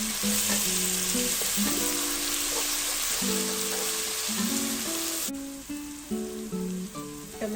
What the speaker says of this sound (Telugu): కొద్దిగా ఫ్రై చేసుకోవాలి.